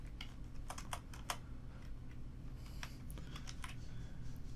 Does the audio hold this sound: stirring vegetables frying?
no